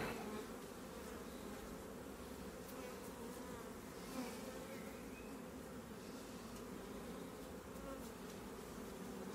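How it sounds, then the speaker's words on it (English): Honey bees buzzing faintly around a queen with a few workers and nurse bees in a recently merged colony, a low continuous drone steady for the whole stretch with no talking. "she's got a few workers in there with her, a few nurse bees in there with her"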